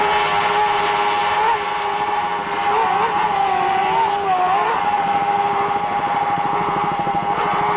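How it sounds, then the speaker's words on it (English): Johnson GT 300-horsepower outboard engines powering offshore racing boats on Lake of the Ozarks, a loud, steady high-pitched drone with pitch wavering as the boats pass, continuous and without talk. "Let's listen to those Johnson GT 300-horsepower outboards."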